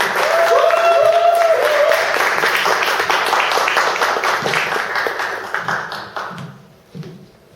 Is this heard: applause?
yes